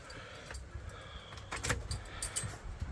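Keys jangle close by in the cab of an adventure truck, several short metallic rattles and clinks in separate bursts, fairly quiet with a little handling noise around them.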